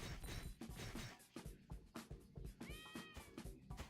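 Game-style cat meows from Ragnarok Online, several short rising cries over a busy, clattery mix of hits and effects, fairly loud and close with no talking.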